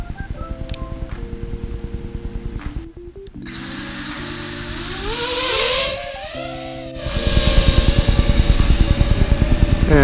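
A 3-inch micro long-range FPV drone with a Caddx Baby camera buzzes on its maiden flight, its close, high motor whine swooping up and down in pitch. A brief dip in the sound comes before the motors surge again.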